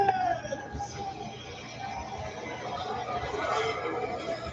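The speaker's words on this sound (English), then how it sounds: "All right, engines have been fired. We're good to go." IndyCar race car engines fire up at the Nashville Music City Grand Prix, making a continuous high whining drone with shifting pitch that swells slightly toward the end, with faint voices underneath.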